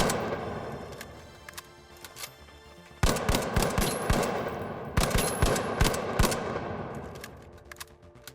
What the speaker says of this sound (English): Next is the LH1, an automatic marksman rifle, which is much louder and longer range than the silenced pistol